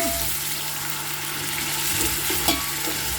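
Ginger-garlic paste fries in a pan for mutton biryani, giving a steady broadband sizzle with a few soft stirring clicks, close and continuous with no one talking.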